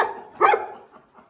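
An Anatolian Shepherd mother dog guarding her pups gives a single short, sharp defensive bark from fairly close, with soft movement and faint noise around it.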